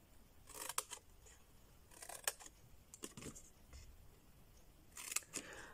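Card is cut with scissors for a small box, heard as brief crisp snipping bursts in irregular groups, close and fairly quiet, with some faint handling noise between cuts.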